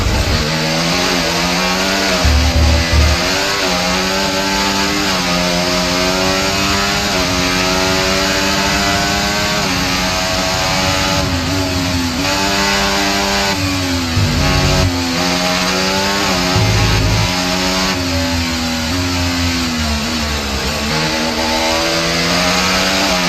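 A Formula 1 car races its final lap in the F1 24 game at Miami, its worn internal combustion engine screaming loudly and continuously, with pitch climbing and dropping through repeated gear shifts.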